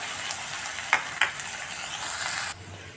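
Soaked toor dal sautéing in a hot pan, a steady bright sizzle with a couple of sharp scrape-clinks of a spoon stirring, close and loud, then the hiss drops off near the end.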